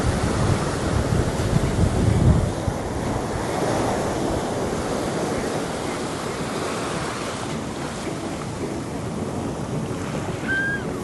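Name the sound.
ocean waves coming in at the beach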